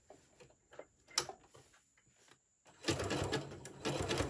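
A sewing machine stitches a zigzag across a fabric pencil case, a few faint short bursts followed by a steady, louder run of rapid stitching near at hand, with no talking.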